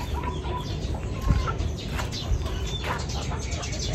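Chickens clucking and calling in a busy, noisy coop, several birds at once with scattered sharper squawks.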